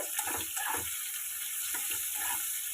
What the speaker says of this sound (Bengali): দেখতে পাচ্ছ পেঁয়াজটা খুব সুন্দর ফ্রাই হচ্ছে